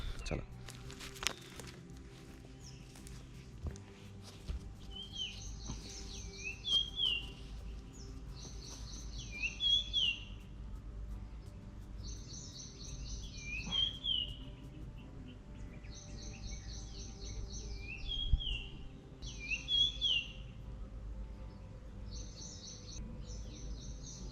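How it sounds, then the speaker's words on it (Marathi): Birds chirp in short repeated phrases, a few seconds apart, at the Yogeshwari Devi temple in Ambejogai, over a quiet outdoor background with occasional soft rustling and footsteps. "पूर्णपणे पक्ष्यांचा किलबिलाट आहे"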